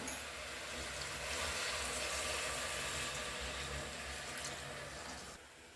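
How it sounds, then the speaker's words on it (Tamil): Water pours steadily into a pot of country chicken gravy, a constant rushing flow for about five seconds that stops abruptly near the end. "நான் தேவையான அளவு தண்ணி ஆட் பண்ணிக்கிறேன்"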